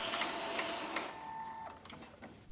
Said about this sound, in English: Maybe a sheet will come out from the printer.